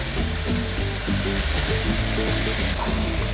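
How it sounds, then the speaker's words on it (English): Blended pepper for Nigerian native jollof rice fries in a pan with a loud, continuous sizzle and bubbling, close up and without talk. "I'm going to fry the pepper until it's dry"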